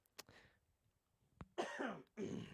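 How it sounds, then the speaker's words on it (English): A few close, sharp coughs, a short one early on, then two harsher bursts with a pause between, in an otherwise quiet room. "I'm coughing a lot."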